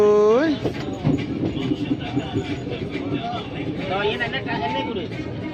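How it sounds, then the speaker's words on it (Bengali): A long passenger train passes through Begusarai station in Bihar, its steady rumble running beneath continuous nearby talk. "রেল চাও, রেল কত লম্বা চাও?"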